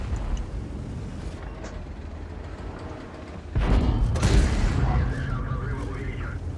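A tank cannon shot in World of Tanks, a heavy boom midway through after steady engine and battle rumble, followed by a ringing tail.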